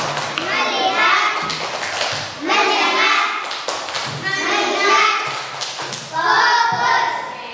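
Primary schoolchildren in an Indonesian maths classroom chant together and clap in a rhythmic focus routine, with bursts of claps and taps between the loud group chanting.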